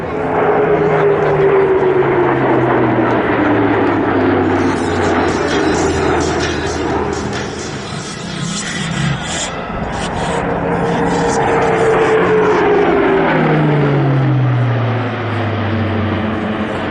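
A jet aircraft manoeuvres at high speed during the 2024 Air Legend airshow at Melun-Villaroche, a loud continuous roar with rising and falling pitch sweeps as it passes and banks.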